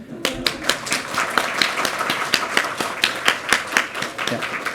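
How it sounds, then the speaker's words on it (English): Audience applause for conference panelists at a Nordic battery collaboration event, dense steady clapping from many hands with no voices over it. "one extra round of applause to Gustav"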